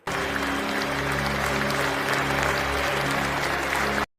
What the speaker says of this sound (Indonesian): Yang hal itu dapat tepuk tangan dari si Hartman